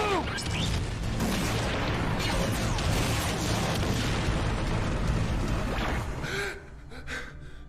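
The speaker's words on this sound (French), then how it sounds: "Les Ultrazords vont exploser." Giant Ultrazord robots blow up in a Power Rangers episode, a loud, sustained roaring blast with crashing debris that fades abruptly near the end.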